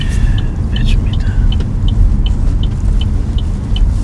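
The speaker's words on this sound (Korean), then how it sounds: "기어 넣으시고 브레이크 떼고 천천히 출발" A car on a Korean driving test road course in Yongin pulls away slowly, its engine a low steady rumble with road noise, while a turn-signal ticks rhythmically and a voice talks softly over it.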